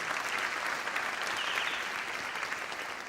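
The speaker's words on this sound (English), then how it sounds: "So quick round of applause for Karen and Leslie John." An audience at a town meeting in a theater claps steadily, a dense, even round of applause that fills the space and fades slightly toward the end.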